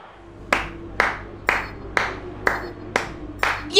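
Hands clap sharply about eight times in a slow, steady rhythm, each clap crisp and close, with brief pauses between.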